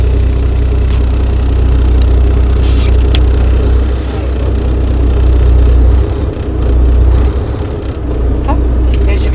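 A tractor engine runs steadily as it tugs against a trailer during tug testing, a loud low idling rumble throughout with slight dips in pitch and strain.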